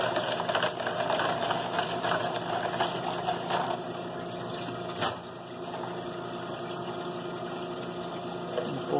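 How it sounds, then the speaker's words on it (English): A parts washer pumps and sprays solvent over bolts held in a cup, giving a steady mechanical whir and gurgling liquid flow with a brief thump midway, close and without speech. "if you just hit it in the parts washer in a cup for a minute"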